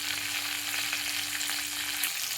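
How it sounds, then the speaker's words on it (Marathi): Green chillies frying in hot oil with masala for a capsicum dish, a continuous close crackling sizzle over low heat with a faint steady hum underneath and no talking. "अशी मिरची तळायला घालून घेऊया"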